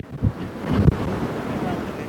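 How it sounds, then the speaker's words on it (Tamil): Strong wind gusting across a mountaintop viewpoint, buffeting the microphone in a heavy rumbling roar with a sharp gust near the start and a bigger surge just before one second, then a steady blustery rush. "சரியான காத்து."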